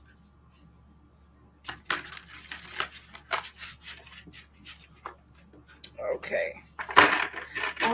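Tarot cards are shuffled close by in quick papery bursts after a quiet start. A brief word is spoken near the start.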